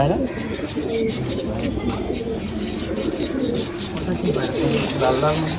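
Malwai Madrasi pigeons coo steadily in a loft, overlapping throaty calls filling the space at close range, while someone talks over them throughout.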